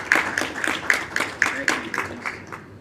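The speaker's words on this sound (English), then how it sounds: "A big round of applause." Sparse, evenly paced clapping from a handful of people at a city council meeting, about four claps a second, close and clear, with no voices over it.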